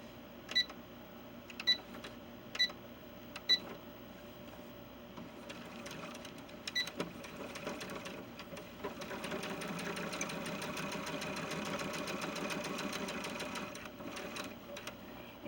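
A sewing machine stitches fabric a quarter inch from the edge on small doll trousers. A few sharp isolated ticks and short bursts come first, then the machine settles into a steady, close, continuous run of rapid stitching.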